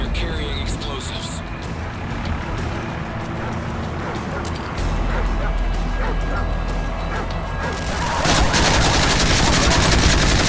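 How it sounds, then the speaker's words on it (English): Explosive-carrying enemy attack dogs bark and yip in Call of Duty MW3 Survival mode, mixed with gunfire and a radio voice over a dense, loud battle din. "Enemy attack dogs near your position."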